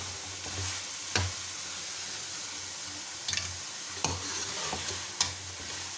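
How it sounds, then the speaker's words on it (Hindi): Spiced kaleji, goat liver pieces, being stir-fried in a pan: a steady soft sizzle with a few sharp scraping strokes of the spoon, close and alone with no voices. "नमक अब इनको अच्छी तरह फिर फ्राई कर लेंगे,"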